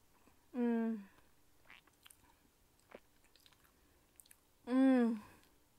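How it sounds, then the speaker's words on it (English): Someone takes bites of a salted egg mooncake, with faint, soft chewing clicks between two short, close voiced hums of enjoyment. "I'm gonna go ahead and take my first bite here."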